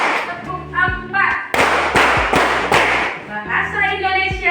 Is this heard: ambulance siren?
no